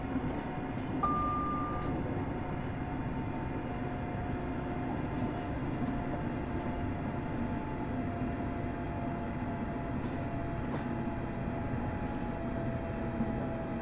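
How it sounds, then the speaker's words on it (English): Simulated train in Train Simulator Classic braking on a ScotRail route as it approaches Croy station, giving a steady close rumble of wheels and running gear with a faint tonal whine and occasional light clicks. "this is Croy coming up, so we'll start to brake"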